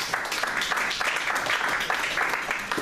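Congregation in a church service applauding together for Jesus Christ, a steady, dense wash of clapping that carries on without a break for a few seconds, loud and close, with no voices standing out.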